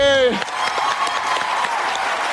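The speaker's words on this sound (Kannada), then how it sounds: "ಜೋರಾದ ಚಪ್ಪಾಳೆ ಕಮಲಿ ಟೀಮ್ಗೆ." Studio audience clapping loudly and steadily for the Kamali team on a Kannada TV show stage, a dense wash of applause after a brief opening voice.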